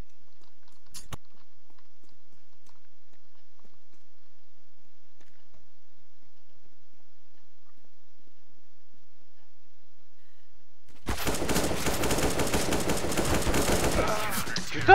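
Gunfire from a Counter-Strike round: after a long near-silent stretch, a dense, rapid automatic burst rattles out loudly for roughly three seconds before cutting off.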